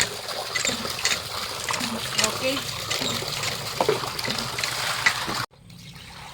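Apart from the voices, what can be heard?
water running while washing snails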